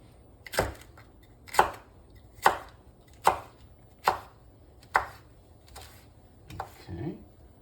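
A knife chops bok choy on a cutting board in a kitchen: seven or eight evenly spaced, sharp thuds close by, ending in a softer, scraping cut.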